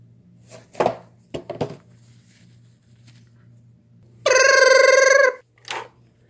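A telephone bell rings once in a loud, sustained burst, with a short second ring after it, following a few scattered knocks and handling sounds in an otherwise quiet room.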